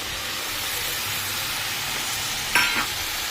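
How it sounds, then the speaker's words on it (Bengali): Tomatoes hiss and sizzle steadily in hot oil in a pan for a Bengali fish curry with potatoes and drumstick stems, with a couple of brief scraping stirs near the end. "টমেটোটা দিয়েও একটু কষাবো তাহলে টমেটোগুলো সেদ্ধ হয়ে যাবে"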